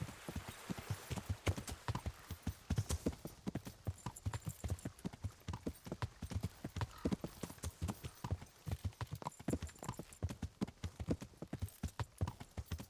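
Steady clip-clop of horse hooves trotting at an even rhythm in Kingdom Come: Deliverance, close and fairly clear, continuing throughout with no voices.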